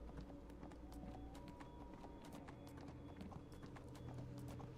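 A horse gallops in the fantasy online video game Neverwinter, its rapid rhythmic hoofbeats clip-clopping steadily and close up over a constant bed of game ambience and music.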